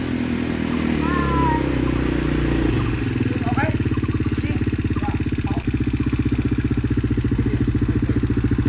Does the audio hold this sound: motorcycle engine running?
yes